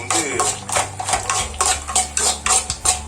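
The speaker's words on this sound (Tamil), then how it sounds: "நெய் ஊற்றிட்டு இந்த கிஸ்மிஸ் முந்திரி பருப்பை அதில் போட்டு பார்ப்போம்." Raisins and cashews frying in ghee for Kerala-style kesari are stirred briskly, giving a quick, regular series of scraping, clinking spoon strokes against the pan over a light sizzle, close by with no speech.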